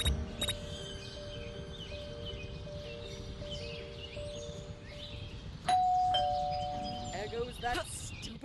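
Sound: doorbell ringing in Scary Teacher 3D video game

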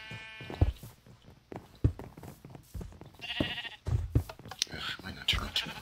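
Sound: sheep bleating in the video game Minecraft

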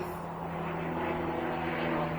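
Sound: airplane flying overhead

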